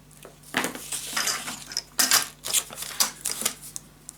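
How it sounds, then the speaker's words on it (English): Cutting a craft paper piece shorter on a keepsake treehouse box project, with a series of close, crisp snipping and clicking bursts in an irregular rhythm, no talk. "So that is this piece. Cutting this shorter."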